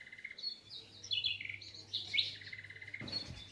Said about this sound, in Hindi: आप वीडियो में देख रहे हैं ढेर सारी चिड़ियाँ हमारे आंगन में इनका आना जाना होता है